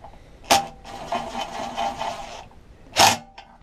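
A ratchet clicks quickly as a 13mm socket tightens a bolt on the engine cover of a vintage 1970s Bob Andrews wheeled trimmer with a Briggs and Stratton engine. Close ratcheting sits between two sharp knocks, with no one talking.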